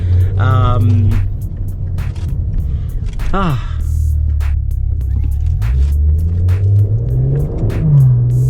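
A 2015 Maserati Ghibli's 3.0-liter Ferrari-built engine revs repeatedly with rising, sweeping pitch over a steady low rumble, loud and close, with occasional rattles and background noise.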